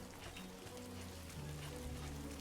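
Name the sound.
rain in video game Death Stranding 2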